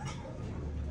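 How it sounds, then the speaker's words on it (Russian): A dog in an outdoor enclosure gives a brief, close whimpering growl with yips, lasting under a second with no talk over it. "А Дуся такая рычит, убежала туда."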